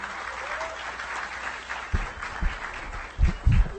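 An audience at a conference applauds a speaker being welcomed to the stage, a steady round of clapping with some louder thumps near the microphone toward the end.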